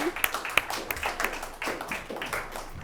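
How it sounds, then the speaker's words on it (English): Sparse clapping from a small group at a school district organizational meeting, a few hands patting irregularly, fairly quiet, with slight voices underneath. "Can everyone give a round of applause for the new board?"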